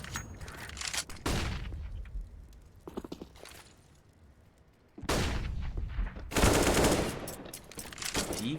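AK rifle fire in an online shooter match: sharp bursts of gunshots come in clusters separated by quieter gaps, loud and close, with a heavy sustained volley near the end.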